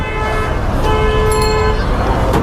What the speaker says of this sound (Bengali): গুলিস্তানের প্রত্যেকটা রোডে অনেক যানজট থাকে